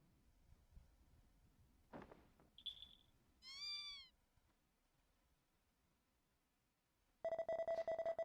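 Cat meowing in the video game Dragon Quest X, a short clear meow followed by chimes and a sustained electronic tone, all quiet and isolated against near silence.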